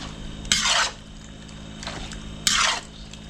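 A spatula scrapes through pork liempo with garlic and onion in a pan, making two loud, close scraping strokes about two seconds apart over a low background hum, with a fainter stir between them.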